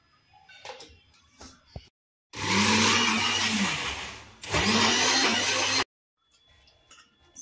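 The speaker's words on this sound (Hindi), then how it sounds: "इसको हम मिक्सर में डालेंगे" A kitchen mixer grinder whirs loudly through two bursts of several seconds, grinding cooked mustard, spinach and bathua greens, with quieter handling noises before and after.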